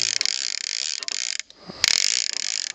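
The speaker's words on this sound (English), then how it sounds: "Got a good loud bait clicker on it." A Penn 4/0 or 9/0 fishing reel in free spool with its bait clicker engaged, giving a loud rapid ratcheting buzz that runs for over a second, pauses briefly, then resumes, close and with no talk.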